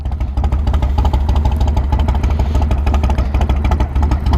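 A Yamaha Roadstar 1700cc V-twin cruiser with big Cobra pipes runs close by, its engine thumping in a loud, steady, loping beat throughout with no voices.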